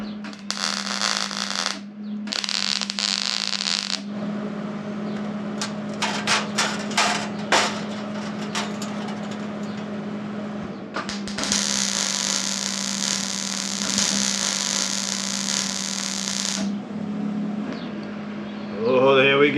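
Stitch welding on 22 gauge steel on a Series 1 Land Rover during restoration gives bursts of harsh crackling hiss that start and stop over a steady mains hum, with sharp ticks between the welds.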